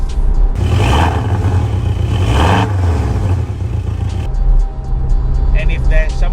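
A sports car engine, in a comparison of the Mercedes-AMG A35, Porsche 718 Cayman and Honda Civic Type R, revs loudly in sport mode with a close, throaty rise and fall, then drops to a lower drone; someone talks over it.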